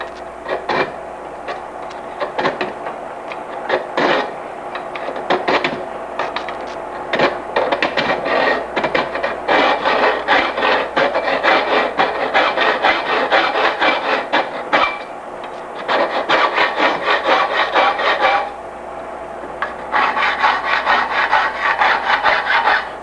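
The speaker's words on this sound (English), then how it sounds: "I'm just going to use this file because I'm pretty used to doing it." A metal file rasps steadily across bicycle fork blades held in a vise, making close, rhythmic back-and-forth strokes with brief pauses between runs of filing.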